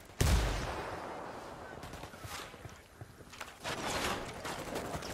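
Grenade blast followed by gunfire in the Ghost Recon shooter game, one sharp loud explosion at the start, then rattling shots and a second burst of fire, with a voice briefly present.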